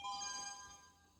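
A soft, bright page-turn chime on a 1985 children's book tape rings briefly and fades, with faint background hiss.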